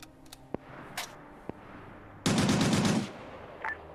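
Machine gun fire in the video game Arma 3, set in a 1939 Winter War scenario: scattered single distant shots, then a loud close burst of rapid automatic fire lasting under a second, and a few more shots afterward.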